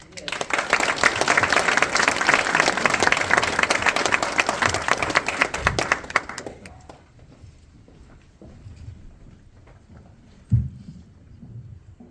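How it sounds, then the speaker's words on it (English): An audience at an evening event applauds loudly and steadily for about six seconds, then the clapping dies away to quiet room sound with a few soft knocks and one short thump. "Let's give Misty another round of applause."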